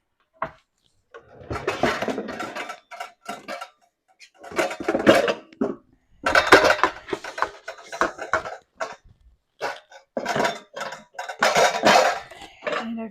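Intermittent clinks and knocks of dishes and a bowl being handled in a kitchen cupboard or drawer, several bursts of clattering separated by short pauses.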